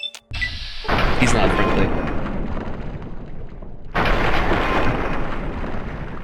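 Loud booming gunshots in Fallout 3 arrive in heavy, reverberant blasts with a sustained rumble after each, and someone talks over them.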